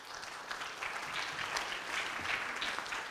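Applause from a gala audience, a dense, steady patter of many hands clapping close by, filling the whole moment without pause.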